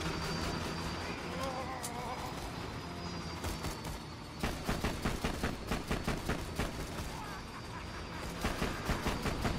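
Rapid bursts of automatic gunfire in the video game Borderlands 2 start in a steady rhythm about halfway through, loud and close over a busy background of game sound.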